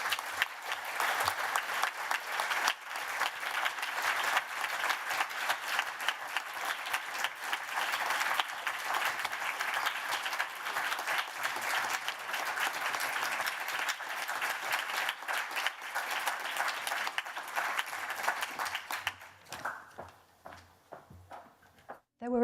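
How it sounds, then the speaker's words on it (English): Audience applause at a literary prize ceremony, a steady, full round of clapping filling the hall for most of the stretch before tapering off toward the end. "So please join me in congratulating and giving Hannah a huge round of applause as she comes to the stage to accept her envelope."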